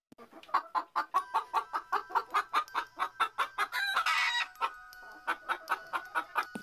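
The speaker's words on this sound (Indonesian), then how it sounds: "Dengar tidak suara ayam?" A chicken clucks in a quick, steady run of sharp calls, loud and close, broken by a short crowing burst in the middle, with no talking.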